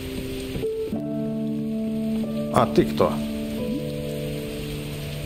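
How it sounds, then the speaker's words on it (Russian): Steady rain patter and hiss from a grey, rainy harbour scene in the video game Hue, continuous under soft musical tones, with a few sharper clicks near the middle and a brief spoken line. "Какое все темно, серое, дождливое, неприятная погода."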